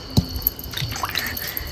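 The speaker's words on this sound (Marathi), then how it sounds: "आता हे दुसऱ्या पाण्याने धुवून घ्यायच्यात आपल्याला" Mangoes being washed in water give a few close splashes and drips, then light sloshing and trickling over less than two seconds.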